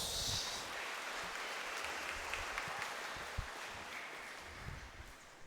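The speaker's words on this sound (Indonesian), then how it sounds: "Kita tepuk tangan untuk Romo Dos" A church congregation applauds a priest at a thanksgiving Mass marking his ninth ordination anniversary, a steady wash of clapping from many hands that fills the space and fades slightly toward the end.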